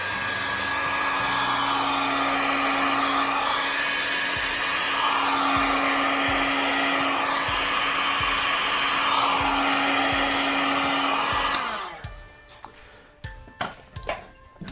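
Heat gun blowing hot air to shrink glue-lined heat shrink tubing over wires, a steady loud whooshing hiss for about twelve seconds that cuts off abruptly, followed by a few light handling clicks and taps.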